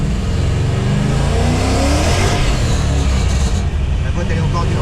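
Ford Mustang drift car engine on a test drive, a loud, close, continuous roar with rising revs under brief talk.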